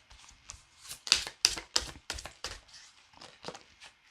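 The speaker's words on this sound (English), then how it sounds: "Let me shuffle one more time." A rapid series of crisp tarot card riffles and slaps, several bursts in a row, close and fairly quiet with no talking.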